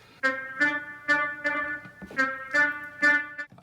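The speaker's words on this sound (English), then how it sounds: "I then decided to introduce this what I call a wibble effect" A pitched synth sample wobbles through a series of rhythmic, bright chopped notes, about eight stabs with slight pitch bends, played alone.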